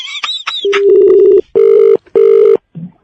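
A loud telephone ring sounds in repeated steady electronic bursts with short gaps between them, following brief higher chirping tones at the start.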